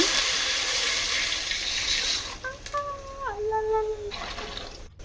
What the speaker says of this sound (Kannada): ಇವಾಗ ನೀರು ಹಾಕೋಬೇಕು